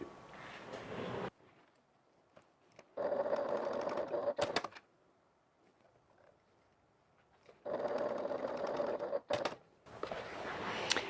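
A domestic sewing machine runs in two bursts of a few seconds each, basting the bottom seam of a fabric evening bag, with quiet pauses and faint handling noises between the runs.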